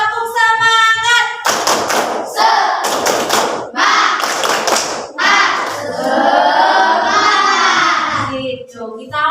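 Schoolchildren in a classroom repeat a patterned spirit clap, quick groups of claps and slaps punctuating loud, sing-song group chanting, with a teacher's voice opening the routine.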